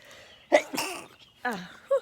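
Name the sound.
sneeze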